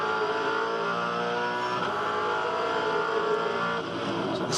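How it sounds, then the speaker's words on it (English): A V8 Supercar at Bathurst during the 2012 Bathurst 1000 race, its engine note loud and continuous as the revs flare on a downshift into a corner, with no talk over it. "Then you hear the big revs on the downshift."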